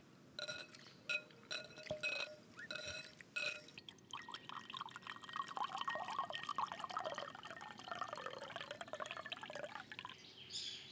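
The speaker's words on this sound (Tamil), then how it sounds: "புளியை நல்லா கரைச்சிக்கிட்டு" Soaked tamarind squeezed by hand in water for a village-style fish curry, with close, quiet sloshing, dripping and faint clinks against a vessel, soft and continuous without any talking.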